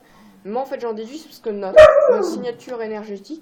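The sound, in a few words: dog barking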